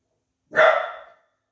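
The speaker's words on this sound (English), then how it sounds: "but once another dog starts barking, he starts barking." A single dog barks once, loud and close, one sharp bark that trails off over about half a second against otherwise silent surroundings.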